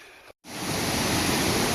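A Sierra creek along the High Sierra Trail in July rushes steadily and loudly, a dense hiss of flowing water that drops out for a split second, then returns close and continuous.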